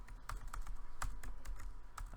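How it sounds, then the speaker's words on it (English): Fingers tap on a computer keyboard in a lecture setting, a quick irregular run of close, crisp key clicks with a few louder strikes and no talking. "Oh, this keyboard is terrible."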